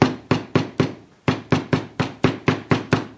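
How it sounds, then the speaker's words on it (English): A hammer tamps a wooden piece into a flush fit on a CNC-cut workpiece: ten sharp, loud, evenly spaced blows, four then a short pause and six more. "tamping it in with a hammer"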